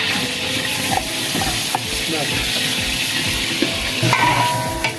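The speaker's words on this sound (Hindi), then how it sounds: "एक परात प्याज़ों की हम इसमें डाल देंगे भर के" A big batch of sliced onions frying in hot ghee in a large deg for chicken korma, with a loud, constant sizzle and hiss and occasional stirring scrapes close by.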